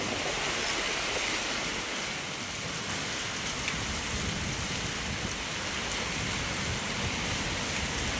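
Unseasonal heavy rain pours steadily in Raigad, with storm winds adding a dense, loud, continuous rush of water on surfaces throughout.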